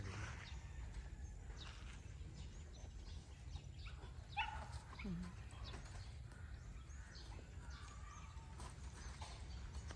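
A dog barks and yips a few times at a rural province home while a cyclone wire fence is being put up, the barks fairly faint against low outdoor noise, with birds and some talk around.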